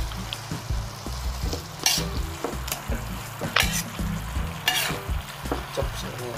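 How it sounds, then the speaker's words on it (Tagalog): Pancit canton noodles are stirred in a sizzling frying pan, with a steady close sizzle and several sharp scraping and clanking strokes of the utensil, and no talking. "ihahalo na natin ang ating pansit"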